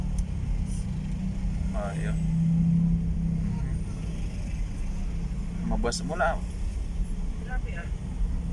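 Road traffic rumbles on Marcos Highway in Baguio, with idling and passing vehicle engines droning low and steady while people talk briefly over the noise.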